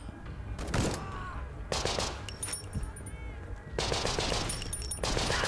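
Gunshots in the video game Conscript ring out in several sharp bursts separated by brief pauses, loud and close against a murky background.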